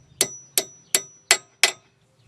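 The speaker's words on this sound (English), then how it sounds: "you take your hammer and you just tap it in as far as you can get it" A hammer taps a new wheel stud into its hub hole with five sharp, ringing metallic strikes at a steady rhythm, close and loud with short decays.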